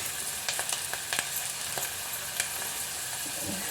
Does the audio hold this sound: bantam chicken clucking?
no